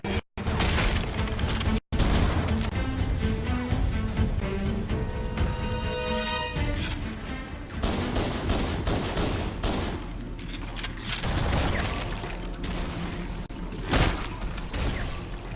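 In Halo Anniversary's Library level, grenade explosions and heavy gunfire tear through the Flood, a dense, loud, continuous barrage of shots, booms and thuds lasting throughout with only a couple of split-second breaks.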